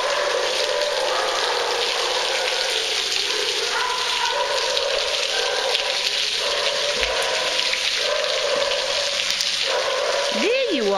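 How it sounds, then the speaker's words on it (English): Steady rain falls outdoors on a January day, a continuous dense hiss of drops on surfaces that holds an even level throughout. "Nobody wants to play in the rain today, huh?"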